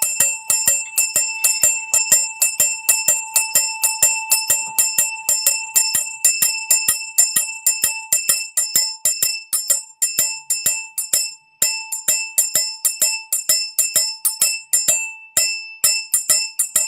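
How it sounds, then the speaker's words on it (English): A bell rung rapidly and repeatedly, bright metallic strikes ringing out in a steady rhythm for the whole stretch with only brief pauses, loud and close with no voices. "go with the bell"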